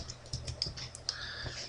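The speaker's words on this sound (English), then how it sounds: "So type in Notepad" Quick bursts of keystrokes on a computer keyboard, a short run of close, crisp clicks with uneven rhythm, heard alone without talk.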